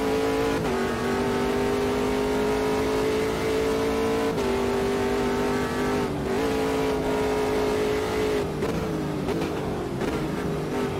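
Race car in the sim racing game Automobilista 2 on the Nordschleife, its engine droning loud and steady with repeated gear shifts and rising revs through the whole stretch, no voices.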